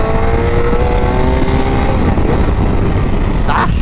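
A BMW F800 motorcycle accelerates hard, its engine note climbing in pitch through the gears, with steady wind rush and a loud, continuous roar from close by.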